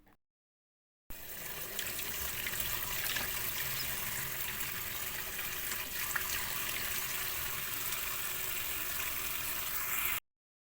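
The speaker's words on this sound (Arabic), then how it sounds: "هنروح بقى ايه تحت الحنفية على مية ساقعة" A kitchen tap runs cold water over blanched cauliflower in a sink, a steady, close hissing gush that starts after a second of silence and stops abruptly near the end.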